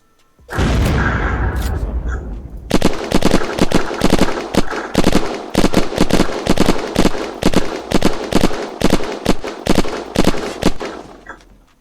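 Rapid, evenly spaced gunshots ring out during a raid in the video game Unturned, a sharp volley after a brief rumble, loud and close, firing steadily for about nine seconds.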